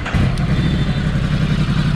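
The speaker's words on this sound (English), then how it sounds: "I'll just make you hear the exhaust note." Ducati L-twin motorcycle with an aftermarket exhaust, idling and revving close by in a loud, steady, throbbing rumble with no talk.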